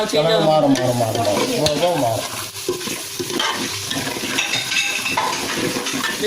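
Mutton curry masala stirred while frying in coconut oil in a village-style kitchen, with loud, dense sizzling and repeated spoon scrapes against the pot, close up and continuous.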